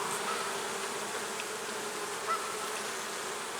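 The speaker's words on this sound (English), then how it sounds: "There's a good number of bees here." Honey bees swarm over hive frames, making a dense, continuous buzzing drone that stays steady and close with no pauses.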